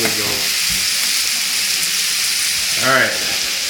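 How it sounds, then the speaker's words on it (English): A steady, loud sizzle hisses throughout as a New York strip steak sears on a George Foreman electric grill, with a brief low voice near the start and a rising burble near the end. "let's listen for that sizzle. That's what we want to hear."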